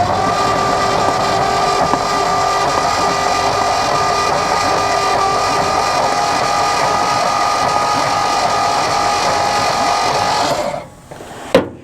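An abandoned 1963 Chevrolet C-20 truck engine cranks on its starter without firing, a steady loud mechanical whirring that runs unbroken for about eleven seconds and then cuts off, followed by a brief clunk.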